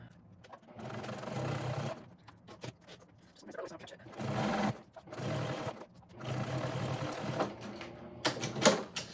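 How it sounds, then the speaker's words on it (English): A sewing machine whirs in several stretches of rapid stitching, pausing briefly between runs, with light handling clicks at the end. "go to my sewing machine and sew this on"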